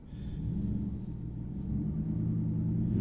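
A 2019 Ram Rebel pickup truck pulls away through snow, its engine a steady low rumble that swells slightly as it moves off, close by and with no talking.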